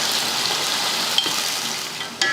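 Sliced large onions sauté in hot oil with bay leaves, cinnamon and cloves for biryani, giving a constant sizzling hiss. A sharp utensil clink is heard near the end.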